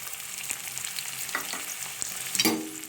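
Two onions go into hot oil and fry with a steady, close sizzling hiss, with a few light clicks of stirring and a brief louder crackle near the end.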